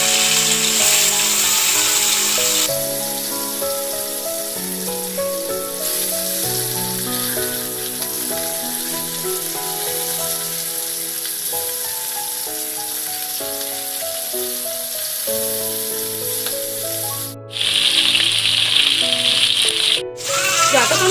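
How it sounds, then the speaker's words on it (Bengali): Sol (snakehead) fish fry in hot oil in a wok, giving a loud, continuous sizzle and crackle with occasional rattling bursts and steady background music. "যতক্ষণ সোল মাছগুলি ভাজা হচ্ছে"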